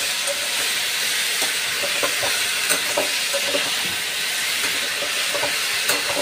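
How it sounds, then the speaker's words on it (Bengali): Chopped tomato and garlic sizzle in hot oil in a pan, a steady close hiss with scattered pops and occasional stirring scrapes, alone without talk. "সব একসাথে এগুলো ভালো করে একটু তেলে ভাজবো।"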